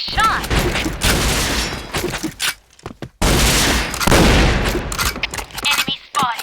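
Shotgun gunfire in the video game Point Blank comes as loud, close blasts in two main clusters, separated by a brief lull and followed by scattered shorter shots.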